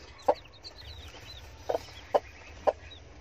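A Fayoumi hen on a home poultry coop clucks in four short, sharp, close calls spaced irregularly over a quiet background, with faint chirps from other birds in between.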